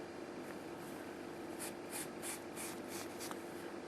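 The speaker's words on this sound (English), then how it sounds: "We're going to write that number down." Pen or pencil writing a number down on paper during a crochet headband session, soft scratchy strokes in a short quiet burst against faint room hiss.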